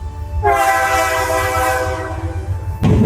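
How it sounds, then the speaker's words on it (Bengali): A train nears a station in Ella, Sri Lanka: a loud sustained horn blast with stacked harmonic tones over heavy low rumble of the engine and wagons, holding steady for over two seconds before cutting off into continued rumbling. "দূর থেকে ট্রেনের শব্দ শোনা যাচ্ছে, মনে হচ্ছে আর কিছুক্ষণের মধ্যেই ট্রেনটা চলে আসবে।"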